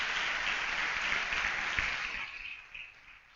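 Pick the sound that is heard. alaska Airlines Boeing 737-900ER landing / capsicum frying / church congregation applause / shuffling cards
church congregation applause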